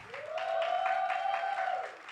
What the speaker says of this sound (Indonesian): berikan tepuk tangan buat para volunteer yang setia melayani